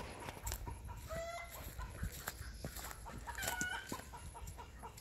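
Chickens cluck nearby in a farmyard while a hen lays an egg, with several rising squawks over a steady background of scattered clucks and rustling.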